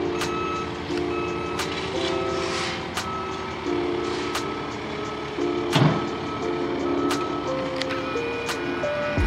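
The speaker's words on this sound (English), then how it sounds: "They've been doing construction on my street all day, and it's been driving me crazy." A construction truck on a residential street repeatedly sounds its high reversing beeper at a steady pace, with engine rumble and occasional clanks and thumps of work close by.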